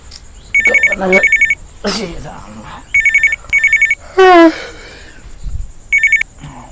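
A mobile phone rings in a home setting during an Awadhi comedy sketch, with repeated bursts of an electronic ringtone separated by short gaps and a few voices talking in between.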